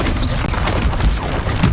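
Bombarda spell explosion in the Hogwarts Legacy video game, a loud, dense blast filling the whole short stretch with rumbling booms and crashing debris.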